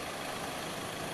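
A Sumitomo SH210 excavator's four-cylinder four-stroke Isuzu diesel engine of about 159.5 horsepower runs steadily at close range, a dense continuous rumble with no voices over it.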